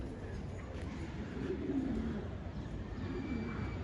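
A pigeon that had been missing for ten days returns and coos softly, low murmuring calls over a steady hum of background noise, fairly faint and distant.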